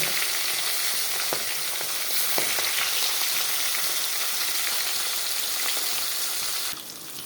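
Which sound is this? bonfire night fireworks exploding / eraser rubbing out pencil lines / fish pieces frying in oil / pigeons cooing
fish pieces frying in oil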